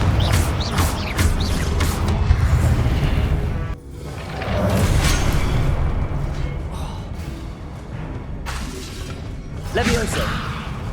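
Confringo fire spells explode in Hogwarts Legacy gameplay: a string of loud whooshing blasts and crashing impacts with a brief drop near the middle, bursts recurring throughout.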